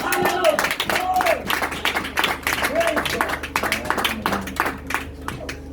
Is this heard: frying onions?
no